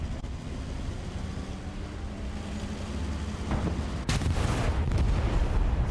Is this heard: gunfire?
yes